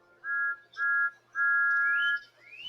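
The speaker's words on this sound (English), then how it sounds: "Then Andrew heard Thomas's whistle." A steam engine whistle sounds three times, with two short toots followed by a longer sustained blast that bends upward in pitch at the end. The tone is clear and steady, with little else underneath.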